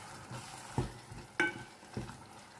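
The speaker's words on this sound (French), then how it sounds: "vous réduisez votre feu pour qu'en fait les échalotes puissent cuire aussi" Shallots fry in a pan over lowered heat for pastel au poulet, giving a soft steady sizzle broken by three louder scraping stirs spaced about half a second apart, with no voices.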